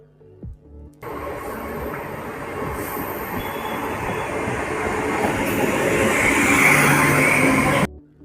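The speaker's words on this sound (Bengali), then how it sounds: "দেখো ট্রেন আসছে" A passenger train rolls into a station on the line toward Bardhaman, its rumble and clattering wheels building steadily louder with faint squeals before cutting off, heard up close without talk.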